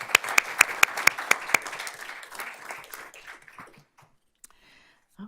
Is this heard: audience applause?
yes